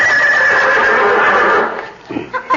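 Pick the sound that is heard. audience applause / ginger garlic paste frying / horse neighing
horse neighing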